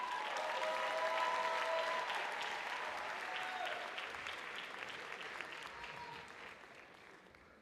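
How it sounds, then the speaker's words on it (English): An audience gives a round of applause for students at a Black Caucus student honor roll ceremony, steady dense clapping that slowly fades over several seconds, with faint voices and cheers mixed in. "another round of applause for them."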